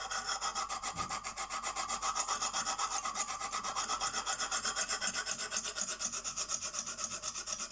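A CK Viper knife blade is stroked rapidly and rhythmically across a Lansky sharpening stone, making a fast, even scraping rasp heard up close with no talking.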